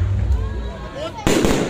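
New Year fireworks boom over the seaside at SM Mall of Asia amid a continuous roar of a crowd. A loud burst breaks in near the end, with people talking throughout.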